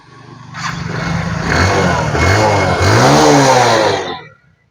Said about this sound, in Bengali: এখন বাইকটি স্টার্ট দেব